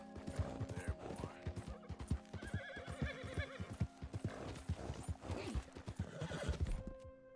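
A horse in Red Dead Redemption 2 whinnies loudly over rapid, close clip-clopping hooves and clattering game sounds, the hoofbeats pounding unevenly throughout.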